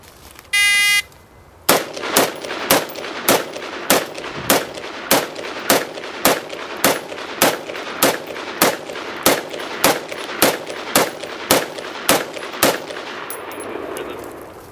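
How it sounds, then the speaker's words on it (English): A 20-round magazine fired from an AR-15 rifle in a timed drill: about twenty sharp, evenly spaced gunshots in a steady rhythm, loud and close, preceded by a brief electronic beep of a shot timer. "Jim's about to demonstrate our next drill shooting an AR-15 with 1 20-round magazine"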